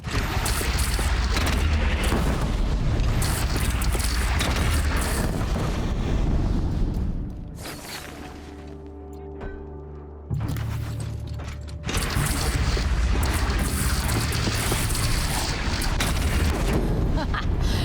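Heavy cannon fire from a gun in Horizon Zero Dawn thunders loud and close over clanking machinery, drops into a quieter humming lull with a single thud, then the booming roar resumes.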